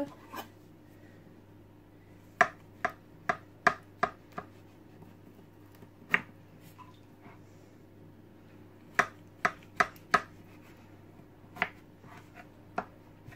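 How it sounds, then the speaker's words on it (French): A knife slicing through a freshly baked, fully cooled apple pie gives a series of crisp, sharp crunching cuts through the crust in irregular bursts, close and clear over a quiet background. "nous allons couper et voir comment elle se présente à l'intérieur"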